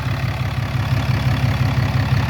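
A Revmax 700 engine idles while warming up, a loud, steady low rumble with an even pulsing beat and no voices.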